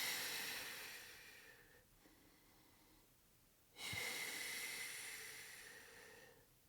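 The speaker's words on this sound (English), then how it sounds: "Exhale, belly to spine." Long breathy exhale during a postpartum running-prep workout, two sustained hissing breaths separated by a brief pause, close and fairly soft, with no talking.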